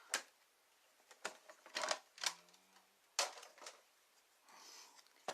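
A paper trimmer cutting cardstock to size gives a series of quiet, sharp clicks and short slicing scrapes, spaced irregularly over a few seconds, with one brief low sliding sound partway through and no talk.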